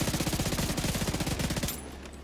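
Tempest automatic pistol in The Division 2, an SMG-like sidearm with a 30-round magazine, firing a loud, rapid unbroken burst of about twenty shots for over a second and a half before cutting off into quiet ambience.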